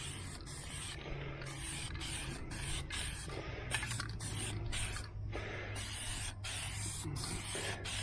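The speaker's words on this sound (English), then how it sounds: "So we'll use this as a guide coat. And you don't put on too much, just kind of mist it on there." An aerosol can mists a light guide coat onto the bodywork of a 1977 Chevrolet Malibu. Short spray bursts hiss close and loud in quick succession, separated by brief gaps, over a low background hum.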